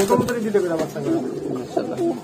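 Soft, low coos from fancy pigeons repeating in a burbling rhythm, close by, with a voice talking over them.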